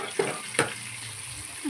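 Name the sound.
roasting chutney and turmeric in a pan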